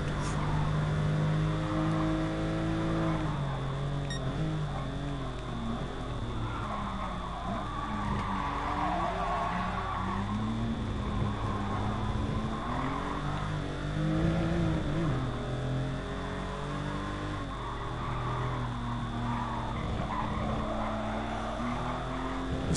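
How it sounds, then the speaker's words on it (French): Porsche 911 RS in Gran Turismo Sport sliding through corners, a continuous loud engine drone with shifting revs and harmonic sweeps throughout, no talk. "comme elle glisse cette voiture, c'est tout ouf"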